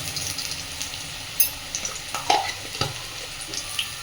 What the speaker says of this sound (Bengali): এর মধ্যেই আমি এবার দিয়ে দিচ্ছি ফোড়নের জন্য একটু সামান্য আস্ত জিরে